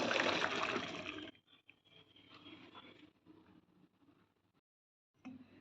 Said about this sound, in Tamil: ஒரு வடிகட்டியில் வடிய வச்சுக்கலாம்